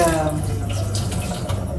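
Tap water runs steadily into a kitchen sink as dishes are washed in an apartment, a continuous close splashing with faint clinks, and no talk over it.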